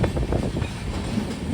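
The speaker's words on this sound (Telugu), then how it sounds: "Rayalaseema super fast express train ఇది." Rayalaseema Superfast Express train from Tirupati to Nizamabad rolling past up close, a loud continuous rumble with rhythmic wheel clatter.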